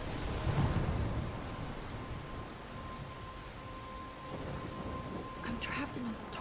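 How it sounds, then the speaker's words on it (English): Steady rain pours through a thunderstorm in the game Life is Strange, with low thunder rumbling beneath the constant downpour for the whole stretch. "I'm trapped in a storm?"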